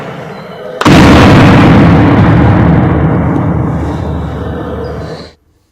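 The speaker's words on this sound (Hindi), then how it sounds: "गोलियां और बम की आवाज साफ सुनाई देती है" A sudden explosive roar from an armed encounter with Naxalites breaks in and holds as a dense, rumbling blast for several seconds before cutting off, loud and close, with no talking.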